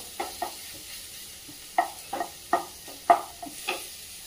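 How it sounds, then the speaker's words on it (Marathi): Ground coconut, garlic and ginger paste being sautéed in a pan, with repeated spoon scrapes and stirs over a soft sizzle, close and alone with no talking. "आता आपण असं परतून घेऊया, म्हणजे त्यामधला कच्चेपणा निघून जातो।"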